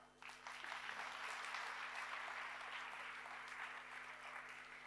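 Audience applause at a motivational talk, a sudden outbreak of many hands clapping that swells quickly and stays steady, then eases slightly toward the end, heard over a faint electrical hum.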